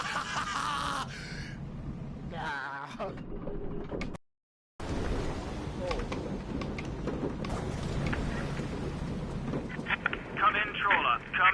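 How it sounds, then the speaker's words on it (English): A stormy sea scene with rain hissing continuously and low rumbles, interrupted by abrupt cuts and a brief dead gap, with voices and mechanical clunks scattered over the storm. "In the heart of the storm!"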